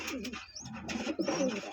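Soft, low pigeon coos repeat in short rolling phrases, close by, with a faint higher chirp mixed in.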